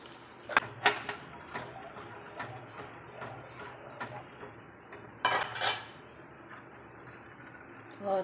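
A spoon stirs buttermilk simmering in a pot, giving light irregular metallic clinks and scrapes against the pot, close and fairly quiet, with a couple of louder knocks.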